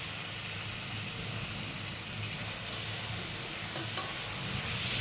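Frying while cooking an egg curry (dim kosha) in a pan, heard as a low, even sizzle with a faint stirring rustle throughout and no voices.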